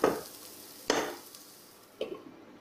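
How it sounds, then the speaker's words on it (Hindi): Onions sauté in a pan: three separate spatula scrapes, about a second apart, each rise out of a faint, steady sizzle and then trail off, up close and with no one talking. "प्याज को 2 से 3 मिनट तक हम लोग भून लेंगे"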